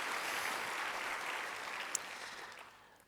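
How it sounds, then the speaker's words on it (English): Audience at a plenary opening applauds the sponsors, a broad wash of clapping that starts full and slowly thins out, with one sharp clap near the end as it dies away. "yes, we can applaud the sponsors"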